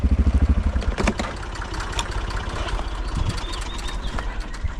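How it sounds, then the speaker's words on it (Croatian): A tractor engine idles close by with a steady low throbbing pulse that is strongest at the start, joined by brief clanks and faint bird calls over the running motor. "Ugasi traktor, neš proći dalje."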